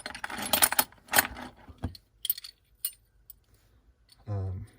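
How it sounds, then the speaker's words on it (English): A bunch of hex keys jangles and clinks in several short metallic bursts, close and bright, separated by brief pauses, with a voice speaking briefly near the end. "A bunch of hex keys."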